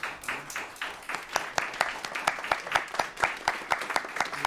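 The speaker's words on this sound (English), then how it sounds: "Another round of applause for Hannah, the orchestra, our wonderful choir, our conductor Claudio" Audience applause following a live orchestra and choir performance, many hands clapping in a lively, sharp, fairly close burst that holds steady for the whole stretch.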